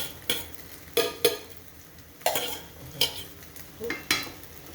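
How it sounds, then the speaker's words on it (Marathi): A spoon scrapes leftover cooked rice from the sides and bottom of a pot while making mushroom biryani, giving about seven close, sharp scraping strokes in an uneven rhythm with brief pauses between them. "आता ह्याच्यात सगळे आपले भांड्यातले राहिलेले जे तांदूळ आहेत ते सगळे व्यवस्थित निपटून घ्यायचे आहेत"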